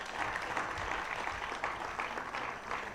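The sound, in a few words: applause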